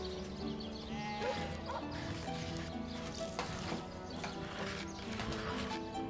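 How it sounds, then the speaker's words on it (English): Sheep bleating in the video game Divinity: Original Sin Enhanced Edition, repeated nasal bleats over a layered game soundtrack and ambience, moderately faint. "There's a sheep."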